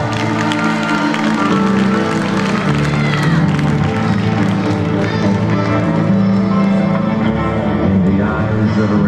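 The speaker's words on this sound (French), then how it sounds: "je vous demande une nouvelle fois un tonnerre d'applaudissements pour Xavier R et pour Thierry Vincent" Loud, continuous crowd applause and clapping fill a wrestling show hall at La Luna, a sustained thunder of hands with a steady musical drone underneath.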